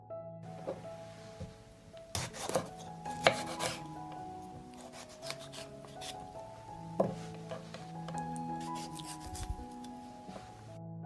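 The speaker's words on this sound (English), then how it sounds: "I will cut the tomatoes in half and clean the center" A knife slicing tomatoes in half on a board, with several soft cuts and sharp taps spaced irregularly, quiet and close, over a faint hum of background tones.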